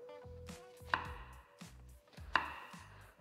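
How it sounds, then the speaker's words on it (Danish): Onions being chopped with a knife on a cutting board, several distinct sharp chops at an uneven pace, close and fairly quiet, with no talking. "Det er sgu klart, når jeg hakker løg, altså."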